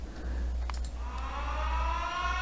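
A low power alert siren from the game Factorio begins about a second in and holds a steady, wailing, electronic tone over a faint hum.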